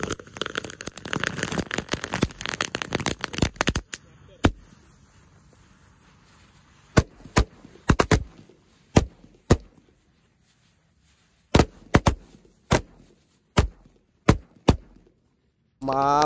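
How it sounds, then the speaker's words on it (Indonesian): Disco firecrackers set off inside bamboo: a rapid burst of crackling bangs, then a series of separate sharp pops spaced irregularly, loud and close, with quiet gaps between them. "Wow, mercon disco lap lap door."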